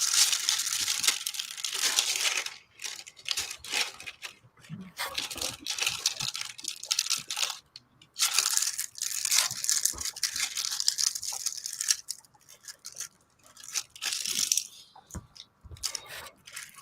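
Plastic packaging crinkles and crunches in bursts near the microphone during diamond painting work, the rustling irregular and bright, coming in short flurries with brief pauses between them and no talk over it.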